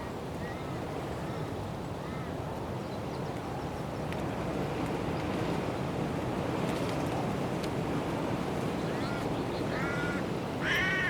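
Sheep-killing crows cawing near a hunter's hide, with harsh calls scattered through the clip and a louder, closer burst near the end, all over steady broadband outdoor noise.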